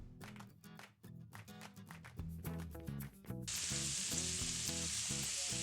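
Diced onions and celery sizzle steadily in a hot pan for a dressing, with spoon stirring clatter early on, then a louder, continuous frying hiss takes over.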